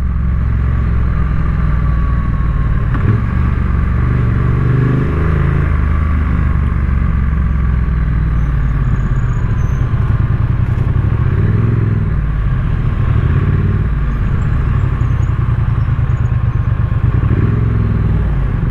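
A Triumph Street Twin motorcycle with electronic throttle idles and revs in a steady, close rumble, with a few brief swells in engine pitch over the sustained tone.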